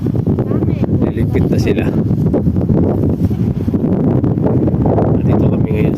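Strong, cold wind blusters across a microphone in an open park, producing a heavy, continuous low rumble with gusty buffeting; a person speaks briefly over the roaring wind.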